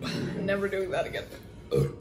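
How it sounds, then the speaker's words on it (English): A deep, rumbling burp follows chugging a 30oz Jack and Coke, loud and close. A second, shorter belch-like burst comes near the end. "I'm gonna apologize for all the burps that are gonna happen later."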